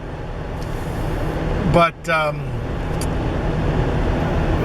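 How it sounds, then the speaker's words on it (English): Car driving along a North Carolina road in a 40 to 50 mph wind, with a steady broad roar of wind and road noise throughout. A voice briefly speaks over it near the middle. "we are driving in about a 40 to 50 mile an hour wind"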